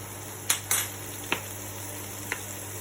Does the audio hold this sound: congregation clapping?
no